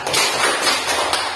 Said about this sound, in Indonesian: tepuk tangan untuk Alexa